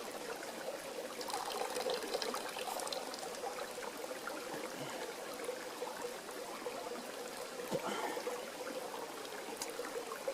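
Water being blown back out through a hiking water filter on an Appalachian Trail section hike, a steady close trickling and gurgling spray with breathy pushes, no talking.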